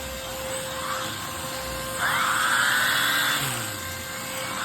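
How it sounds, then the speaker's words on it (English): A Shark Pursuit UV209R vacuum cleaner runs a loud, steady suction drone over an electric recliner, its pitch rising and whining as the nozzle meets the upholstery, then settling back. "We're gonna start with the Shark Pursuit."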